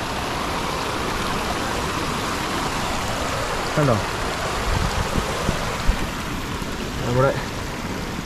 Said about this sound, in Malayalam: കൃഷി ചെയ്ത സ്ഥലത്തൂടെ വെള്ളം ഇങ്ങനെ കീറി ഇറങ്ങി പൊക്കൊണ്ടിരിക്കുകയാണ്